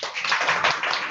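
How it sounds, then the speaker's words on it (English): Brief applause from a small Toastmasters club meeting audience, a short burst of mixed clapping at moderate loudness. "A big applause."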